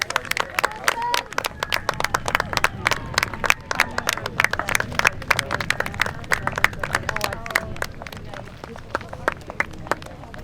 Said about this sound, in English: round of applause for the 4 teams as they come in here